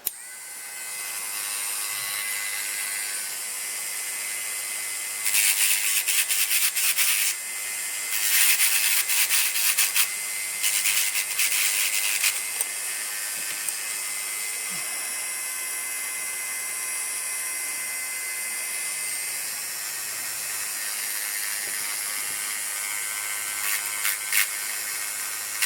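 Small rotary grinder shaping a part for a 1/350-scale model of the battleship HMS Lord Nelson, a steady high whine held throughout with several brief harsher bursts as the tool bites, close and moderately loud.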